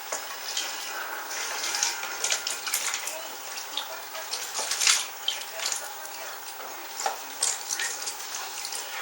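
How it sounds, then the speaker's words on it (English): Water splashing and trickling in a basin as freshly dug wild leeks (ramps) are swished and rinsed. The water sloshes continuously at close range, with small clinks and drips throughout. "then I can change the water out, and then we'll put them back in for their second rinse"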